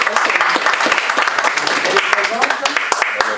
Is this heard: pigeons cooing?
no